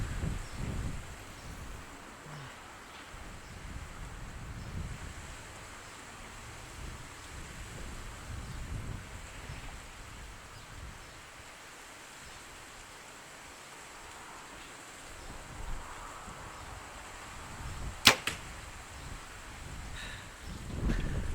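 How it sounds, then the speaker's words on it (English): Wind blows outdoors at an archery range during a shot with a Mathews bow, a soft steady rush with low buffeting gusts against the microphone and one brief sharp knock near the end, with no talking. "Now there's a bit of wind"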